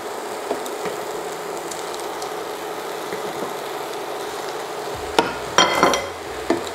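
Mini penne pasta stirred in a minestrone pot makes a steady low rumble, then scraping, clattering spoon strokes against the pot near the end, with sharp bursts of metallic knocking.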